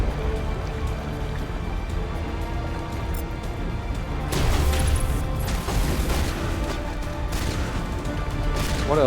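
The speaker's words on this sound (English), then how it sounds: "What else is shooting at me?" Gunfire in Mass Effect aimed at the player on the Virmire base, a dense run of shots and booms that swells midway and keeps crackling under a steady rumble of game noise.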